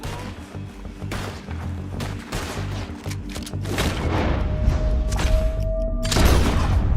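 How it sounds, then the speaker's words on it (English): Gunfire in the video game Red Dead Redemption 2 cracks out in a rapid series of loud shots and booming thuds during a shootout, with dense overlapping reports and no talk. "told you I could shoot a gun, didn't I?"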